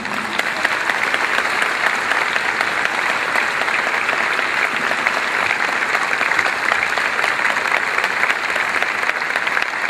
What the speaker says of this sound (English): Ladies and gentlemen, a big round of applause for Dallas Simmons.